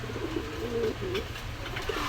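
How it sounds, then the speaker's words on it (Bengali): White racer pigeons, a pair whose hen is close to laying, coo in low rolling phrases up close, steady and unbroken, with no voices. "এই এক জোড়া রেসার কবুতর, হোয়াইট রেসার"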